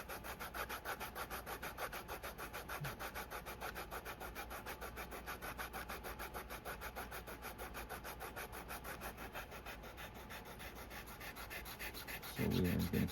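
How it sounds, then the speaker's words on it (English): Sandpaper rubbing along the edge of a leather trifold wallet in rapid, even back-and-forth strokes, close and steady throughout with a fan humming behind, ending in a brief louder knock. "Let's go ahead and sand this down here."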